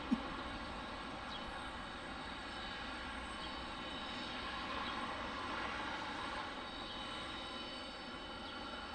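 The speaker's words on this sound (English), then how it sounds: "Our next departure looks like Delta 2022 on another 717" A Delta Boeing 717 airliner departs Detroit Metro Wayne airport with a lighter load, its steady broad jet roar sustained and fairly distant throughout, no voices over it.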